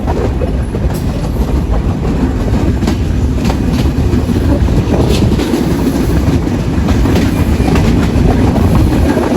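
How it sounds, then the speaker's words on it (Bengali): The Sundarban Express rolls through Kalukhali junction station in Rajbari district without stopping, a loud, steady rumble of rail wheels with rhythmic clickety-clack, heard close from on board. "আমাদের ট্রেনটি স্টেশনে থামবে না, সরাসরি চলে যাবে পাংশার উদ্দেশ্যে"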